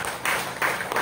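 Applause from a congregation at a Sunday Holy Mass in church, a short burst of moderate clapping rising and falling in two brief swells.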